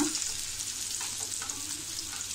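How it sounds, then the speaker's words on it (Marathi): Rupchand fish fillet shallow-frying in a pan for a Malvani fish fry, a steady close hiss of hot oil sizzling with faint crackles throughout, no talking. "आपली एक बाजू चांगली छान अशी तळून झाली आहे का"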